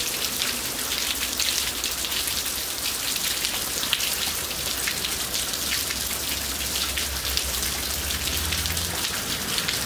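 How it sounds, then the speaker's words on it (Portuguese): Steady rain pours down in a dense, even patter of drops striking surfaces, loud and continuous throughout, with no voices. "E veio a chuva, pessoal."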